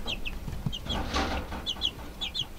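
Backyard chickens with a chick, given grass by hand in a garden coop, give soft repeated clucks and brief chirps at close range, scattered across the moment with no talk over them.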